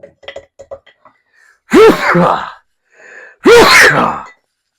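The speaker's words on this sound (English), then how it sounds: "I have to sneeze." A person in a home kitchen, feeding a sourdough starter, gives two loud, close sneezes about two seconds apart after a few quieter short sounds.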